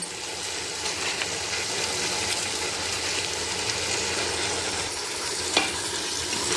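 Tomato, yogurt and salt are stirred and fried in a pan for country chicken biryani, giving a steady, close sizzle with continuous scraping and stirring throughout, and one sharp clink near the end.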